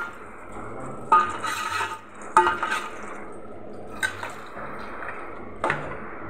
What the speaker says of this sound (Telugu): కొంచెం వాటర్ ఎక్కువనే పోసుకుంటాను నేను